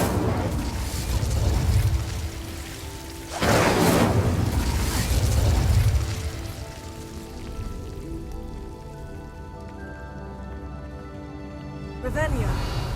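Incendio fire spell cast in Hogwarts Legacy on PS4 Pro: two loud, rushing fiery blasts of about three seconds each, followed by quieter game ambience and a short burst at the end.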